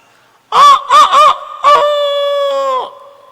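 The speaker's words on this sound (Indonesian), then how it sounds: "suara ayam." A chicken crows loudly and close by, a few short clucking notes followed by one long drawn-out call that fades at the end, with no other sounds around it.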